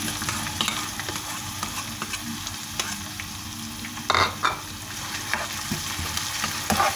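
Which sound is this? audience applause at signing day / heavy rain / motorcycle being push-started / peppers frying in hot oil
peppers frying in hot oil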